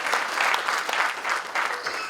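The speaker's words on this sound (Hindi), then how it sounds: "तो एक बार बत्रा जी के लिए तालियां बजनी चाहिए" An audience at a poetry gathering applauds, a dense, fairly loud burst of many hands clapping that continues evenly for about two seconds.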